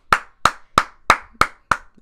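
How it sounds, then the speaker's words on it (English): A man claps his hands seven times in an even rhythm, each clap sharp and close with a short ring and near silence between them. "Do you see me clapping my hands?"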